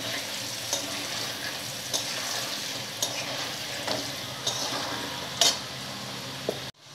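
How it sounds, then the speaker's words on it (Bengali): Potatoes fry in a pan with turmeric and salt, a soft, steady sizzle with occasional light stirring scrapes and a small clatter near the end, quiet and without speech. "হলুদ আর লবণ দিয়ে আরও কিছুক্ষণ আলুগুলো আমি ভেজে নেব।"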